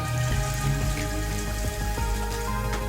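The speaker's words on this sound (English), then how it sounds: "get all your goopy clay and your water and everything, and just go ahead and put it straight in this bucket right here" Goopy wet clay and water are poured into a bucket for recycling clay, making a continuous splashing, gurgling stream with a faint steady hum beneath it.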